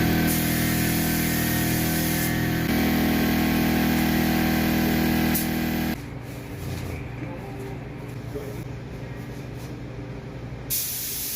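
A spray gun lays the final coat of paint on a fiberglass cowl hood. Loud, close bursts of hissing spray run in long passes with brief breaks, then turn quieter and steadier partway through.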